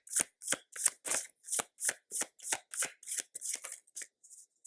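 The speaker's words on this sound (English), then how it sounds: "I'm going to shuffle again" Tarot cards are shuffled by hand in a steady run of about a dozen crisp riffling bursts, close and soft, evenly spaced and tapering off at the end.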